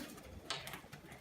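A bird, probably a pigeon, gives a brief, faint coo while it is being caught, set against soft outdoor background noise.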